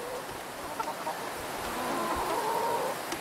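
Chickens and ducks on a winter homestead clamouring for food: a soft, continuous chorus of clucks and quacking chatter from a flock, fairly close and steady throughout.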